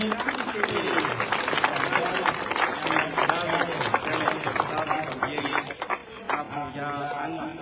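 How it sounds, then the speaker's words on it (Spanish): Church crowd applauding at a fire blessing ceremony in a parish in Sacapulas, Quiché, Guatemala, a dense, sustained wash of clapping with cheers and voices mixed in throughout, loud and close. "vamos a pedir un fuerte aplauso para todos los hermanos"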